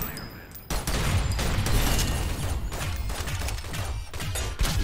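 Gunfire in the video game Synthetik, a dense, continuous barrage of loud shots and impacts that starts abruptly and carries on at close range, with no speech over it.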